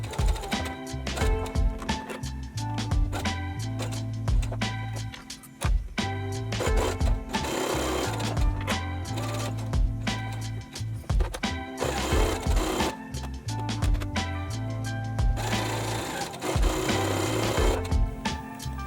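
A sewing machine stitches a fabric bridal face mask, running in loud rhythmic bursts of rapid needle strokes with brief pauses and clicks between runs, close by and without talk.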